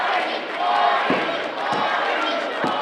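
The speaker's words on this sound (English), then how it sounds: "The crowd chanting for Marti, Marti, Marti. They want her to get up." A wrestling crowd at an indoor show chants in rhythm for a performer, a loud massed roar of voices with a few sharp thuds and bumps cutting through at intervals.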